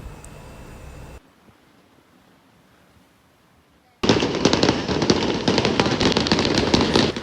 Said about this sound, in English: And there's even free fireworks show to watch from here.